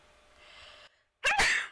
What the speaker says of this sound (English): Hopefully I remembered to edit out that sneeze